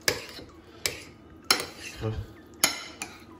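A metal utensil scrapes and clinks against a pan while food is stirred, with about five sharp knocks at irregular intervals and a low rustle of moving food between them. The sound is close and there is no speech.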